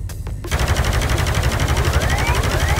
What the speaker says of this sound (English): And the bullets come in.